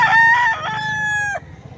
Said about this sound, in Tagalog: kung interested kayo guys sa mga manok ni Boss Russell